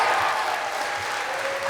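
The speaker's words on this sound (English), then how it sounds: "roar of applause" Audience applause at a live show, a dense steady wash of clapping that holds at an even loud level throughout, with no voices standing out.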